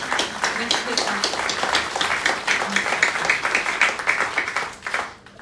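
An audience at a New Year greetings ceremony applauds for a birthday, steady and fairly loud clapping throughout before tapering off at the very end.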